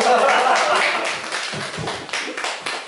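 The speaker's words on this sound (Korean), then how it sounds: "박수 한번 쳐주세요" Audience clapping at a lecture for a local politics school, a fairly close burst of many hands that thins out and becomes scattered toward the end, with some voices mixed in.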